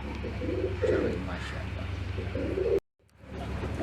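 Pigeons for sale coo in soft, low, repeated throaty bursts, close by over steady background hum, with a brief cut to silence near the end.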